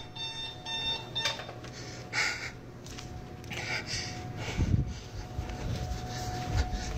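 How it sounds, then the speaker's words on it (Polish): A steady beeping alarm tone rings through a rumbling, noisy background, with scattered thumps and clatter around it. "Alarm's going off."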